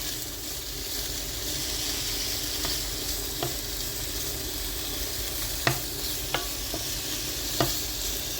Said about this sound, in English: Starting to sizzle a bit now.